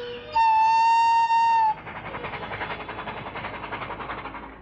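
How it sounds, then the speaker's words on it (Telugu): A train gives a loud, sustained horn blast lasting about a second, then its cars roll on with a steady, rhythmic rumble and clatter. "రైలు సిద్ధంగా ఉంది."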